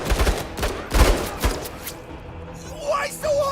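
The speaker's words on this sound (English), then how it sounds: "But we'll still shoot him." Gunfire in the tactical video game Menace, with a few sharp shot bursts in quick succession at the start, followed by quieter game effects and a voice talking.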